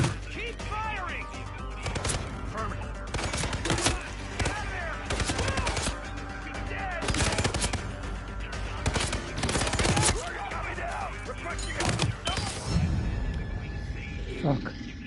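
Dense, chaotic gunfire in the Hitman game, a mix of rapid shots and bursts spread throughout, with voices talking over the shooting.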